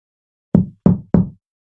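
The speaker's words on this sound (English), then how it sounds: "The knocking grew louder." Three hollow, muffled knocks come from beneath ice in a frozen mountain setting, close together in a quick, slightly uneven sequence, each one dull and resonant against silence.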